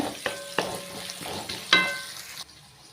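Crushed garlic cloves and dried red chilies tossed into hot oil in a pan, giving soft sizzling broken by several sharp clinks and scrapes of stirring, fairly quiet and close, with no talk.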